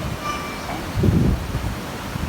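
Strong monsoon wind blows at a beach on Boracay, a steady broadband rush buffeting the microphone, with a gust swelling in the middle.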